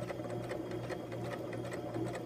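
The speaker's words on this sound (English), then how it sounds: "I am going to continue to sew" Continuous close hum and rapid needle chatter of a sewing machine stitching along a fabric edge while turning a corner, steady throughout with no voices.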